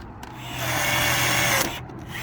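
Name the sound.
rivet gun riveting thin tube metal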